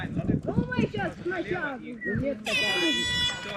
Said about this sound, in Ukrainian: Буде гудок.